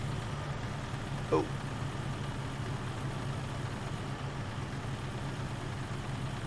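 A low, steady engine drone from the International Lone Star truck in American Truck Simulator, heard faintly from inside the cab, with a brief voice exclamation over it.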